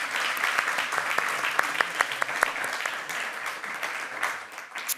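Conference audience applauding steadily for several seconds, a dense wash of many hands with a few sharper claps standing out, tapering slightly toward the end, moderately distant in a large room.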